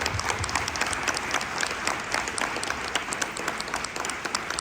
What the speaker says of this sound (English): let's give a round of applause to our panelists for coming out tonight